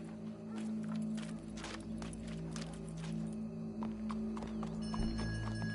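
Horse hooves clip-clopping in Red Dead Redemption 2, a western-frontier video game, a steady run of close, fairly quiet hoof beats with some scuffing and background ambience.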